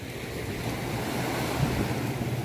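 Rough surf on a beach gives a continuous broadband wash of waves with wind noise across the microphone. No voices are heard.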